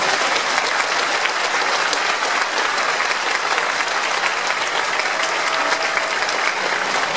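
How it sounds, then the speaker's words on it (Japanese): Steady, dense applause from a large crowd at Kotooshu's sumo retirement ceremony fills the hall, loud and continuous without a break for the full stretch. "どうぞ大きな拍手をお願いいたし"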